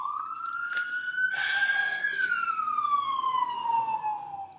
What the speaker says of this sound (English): because you hear screaming ambulances in every video